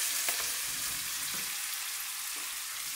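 Spicy sausage fries in a pan with a steady, bright crackling sizzle that carries the whole stretch, broken by a few soft clinks, with no voices.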